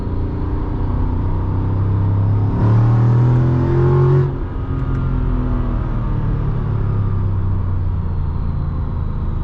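A 2006 Mercedes-Benz E55 AMG W211 with a supercharged engine revs up, its deep rumble climbing in pitch with a rising whine before dropping back to a steady idle drone, heard loud from close by.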